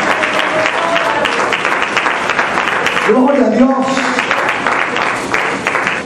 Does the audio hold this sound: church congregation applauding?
yes